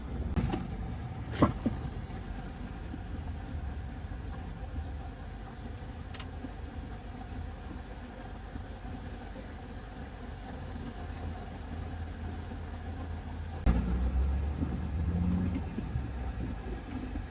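A car engine hums low and steady from inside the moving vehicle, with faint road rumble, a few knocks and a slight swell in engine noise near the end.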